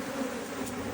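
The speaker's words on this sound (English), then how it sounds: "I'm gonna shake these bees off." A steady, close drone of many honey bees buzzing continuously as they are shaken off a hive frame, with no other sounds over it.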